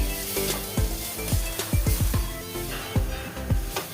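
A coconut and jaggery filling sizzles in a pan while a utensil stirs it, giving a constant frying hiss broken by a run of quick metallic scrapes and taps.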